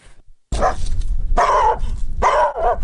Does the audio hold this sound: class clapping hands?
no